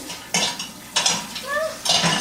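Plates and cutlery clatter in sharp clinks and scrapes, several knocks in quick succession, while a dishwasher is loaded at home.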